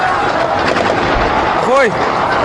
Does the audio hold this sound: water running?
no